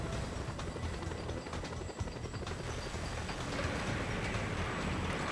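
A helicopter in the video game Just Cause 2 gives a steady, dense rotor roar with a rapid chopping texture, holding at constant loudness throughout without voices.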